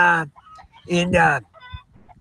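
Chickens cluck in short bursts, one longer squawking call in the middle and fainter clucks after, close by with no talking.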